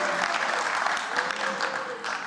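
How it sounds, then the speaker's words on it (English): An audience at a graduation ceremony claps steadily, a dense, fairly loud wash of applause that fills the whole moment without talk. "You can applaud, we love her too."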